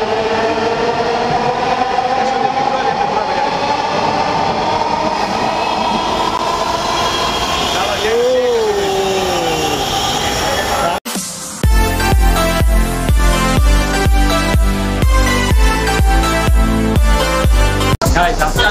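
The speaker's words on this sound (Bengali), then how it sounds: "আজকে আমি আপনাদের সবাইকে নিয়ে এসেছি মেট্রো রেলে।" A Dhaka Metro Rail train runs with a steady rumbling roar, a brief rising squeal near the middle, then a cut to rhythmic music carries the rest.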